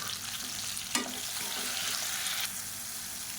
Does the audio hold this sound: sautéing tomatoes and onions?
yes